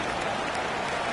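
A football stadium crowd at a Patriots vs Colts game roars and applauds in a dense, continuous wash of noise, loud and steady with no clear voices.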